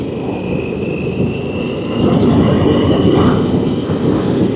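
Harley-Davidson Pan America V-twin motorcycle engine running while riding, a steady broadband rumble with wind roar that swells louder midway, with faint voices briefly audible.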